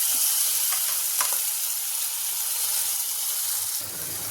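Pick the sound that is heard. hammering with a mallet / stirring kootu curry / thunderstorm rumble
stirring kootu curry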